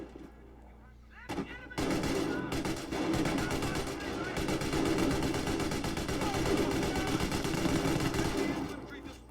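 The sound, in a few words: machine gun fire in video game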